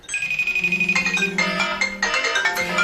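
A FaceTime incoming-call ringtone chimes from several devices at once, overlapping melodic tones repeating loudly and steadily throughout.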